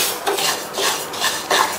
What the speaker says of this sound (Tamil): அதில் 100 கிராம் பாசிப்பருப்பை சேர்த்துட்டு நிதானமான தீயில வச்சு இந்த பருப்பு வந்து நல்லா பொன்னிறமாக வர வரையும் வறுத்துக்கணும்.